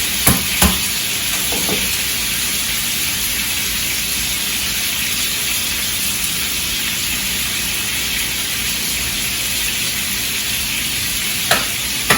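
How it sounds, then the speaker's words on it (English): Garlic fries in a pan alongside pork chops, giving a steady, even sizzle that fills the whole stretch, with a few sharp clinks of a utensil near the start and end, close by and without talk. "I'm adding some garlic to it."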